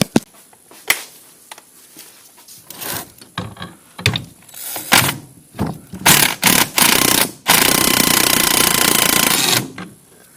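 A power tool works the nut on a Charger AWD front shock, firing several short mechanical bursts that build into one long, loud rattling run near the end, with quieter clanks and shop noises between.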